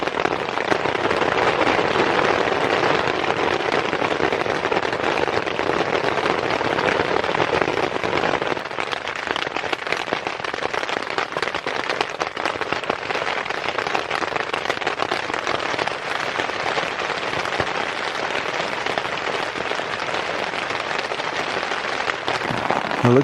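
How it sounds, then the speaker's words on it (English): Dense, steady patter of heavy rain drumming on taut fabric overhead, a continuous close hiss with crackling drops throughout, no voices. "if you ever slept in a tent in the rain,"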